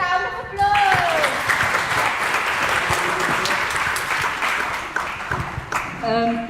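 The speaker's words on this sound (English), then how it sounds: "Can we give a round of applause?" Applause from a gathered crowd at a funeral service, a sustained wash of many hands clapping that follows a voice and fades as speech resumes.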